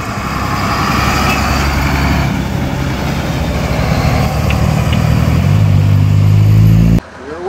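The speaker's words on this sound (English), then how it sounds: "the engine is right next to you, so you hear it massively." A big AEC Routemaster bus diesel engine rumbles loudly and close by, heard from the driver's cab, steady and throbbing, shifting tone slightly near the end before cutting off abruptly.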